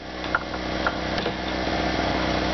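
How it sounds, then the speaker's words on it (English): A generator runs steadily close by during prep work in an RV, a constant low engine drone with faint clicks and knocks over it. "Got my generator running."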